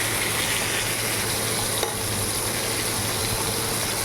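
Rohu fish frying in a pan for a thin curry gives a steady, close, even sizzle with a faint low hum under it and one small tap partway through.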